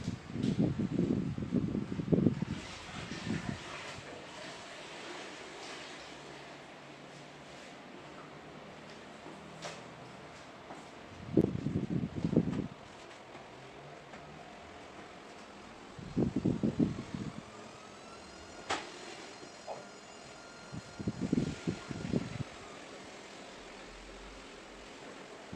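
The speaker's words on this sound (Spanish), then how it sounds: "Lo que escucháis de fondo es el ruido de la lavadora" A washing machine running in another room of a home while a living room and sofa are being cleaned, a faint steady mechanical hum in the background broken by a few louder thumping bursts from the drum.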